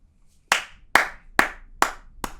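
Five sharp hand claps in an even, unhurried rhythm, close and distinct against near silence.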